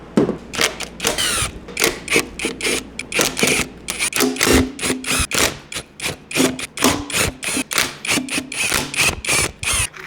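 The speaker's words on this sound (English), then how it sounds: "Let me chisel my bolts out." A hammer drives a chisel against bolts during a teardown of a Ford 302 engine from a 1964.5 Mustang: loud, close metallic blows repeat rapidly, roughly two or three per second, without pause.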